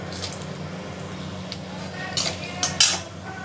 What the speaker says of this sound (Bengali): ফোড়নটা দিয়ে দিচ্ছি, দেখুন